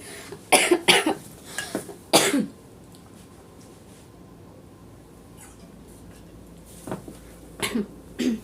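Several sharp coughs, two close together at first and another a moment later, then a quiet stretch before a few softer coughs near the end.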